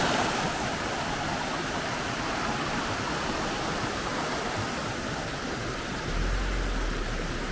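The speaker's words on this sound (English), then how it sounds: "I'm going to go explore this little spring over here." Clear mountain spring water flowing in Patagonia, Argentina, a dense continuous rushing wash heard close and steady, alone without talk.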